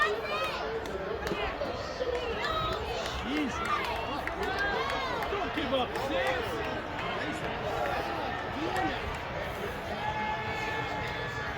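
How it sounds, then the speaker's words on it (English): Dense crowd babble at Santa Anita Park horse racetrack during a race, many overlapping voices talking and calling out steadily throughout, with occasional louder shouts rising from the continuous hubbub. "you can hear people talking, cheering, getting angry"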